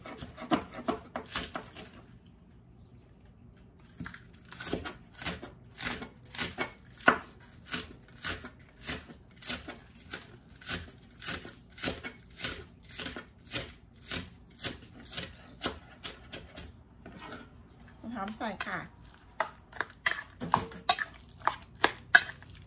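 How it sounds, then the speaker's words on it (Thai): Rapid, steady knife chops of spring onions on a cutting board, a long run of sharp taps with a brief pause, close and clear with no talking. "เราแล้วก็หั่นนะคะต้นหอมค่ะ"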